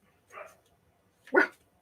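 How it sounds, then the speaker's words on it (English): A pet dog indoors lets out two short, separate barks about a second apart, fairly faint and somewhat distant, with near silence around them. "My dog is barking."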